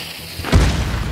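A bomb goes off in the Hunt: Showdown game: one loud, deep boom after a short quiet lead-in, then a rumbling tail that lingers to the end, near and heavy, with no talk.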